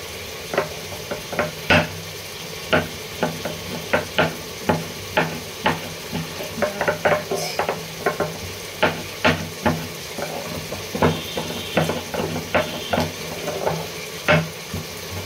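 Tomatoes being mashed in a frying pan for a gravy, with repeated sharp taps and scrapes of a utensil against the pan in an uneven rhythm over a continuous close sizzle.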